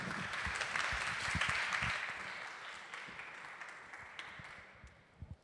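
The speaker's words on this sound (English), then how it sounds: "Ladies and gentlemen, let's give them a round of applause." Audience at a programme demo day applauds the presenting companies, a fairly faint, dense wash of clapping from a distance that gradually tapers, with a few louder claps near the end.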